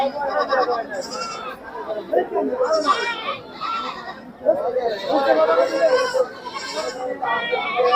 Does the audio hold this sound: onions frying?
no